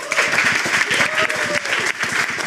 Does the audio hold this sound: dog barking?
no